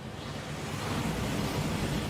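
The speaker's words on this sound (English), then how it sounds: "waterfall washes away all enchantments. It's a security measure" A waterfall rushes inside the Gringotts vaults in Hogwarts Legacy, a steady, loud, broadband roar that swells slightly and continues unbroken throughout.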